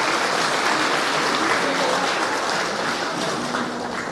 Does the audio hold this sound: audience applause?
yes